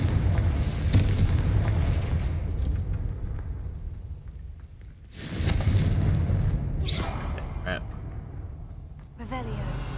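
Explosive blasts from the Confringo spell in a Harry Potter video game, a few loud booming bursts with rumbling tails, close and heavy, while a voice talks intermittently.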